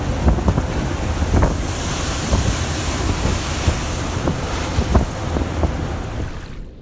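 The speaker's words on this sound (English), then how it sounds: "The ship's battle with the raging waves made many passengers feel like they were caught in a high-stakes thrill ride." A ship pounding through raging ocean waves, heavy wind buffeting and rushing water with repeated thudding hull impacts, loud and continuous with no voices.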